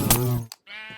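A sheepuff, a sheep from the Minecraft Aether mod, gives a short close bleat, then a brief second call after a pause.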